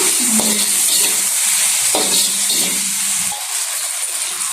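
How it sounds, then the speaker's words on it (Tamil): Ground masala paste of ginger and garlic sizzles and spatters steadily in a hot pan while cooking pumpkin perattal, with a few soft stirring scrapes and no voices. "அரைச்சி வச்சிருந்தது நம்ம பாதியை இறக்குறோம். இப்போ நம்ம நல்லா வதக்கணும்."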